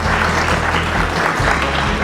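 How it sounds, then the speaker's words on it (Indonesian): An audience at the opening ceremony of the Floricultura Indonesia International convention applauds loudly and steadily, a thick continuous wash of clapping with a low hum underneath. "Boleh kasih tepuk tangan yang meriah dulu untuk Bapak dan Ibu semua."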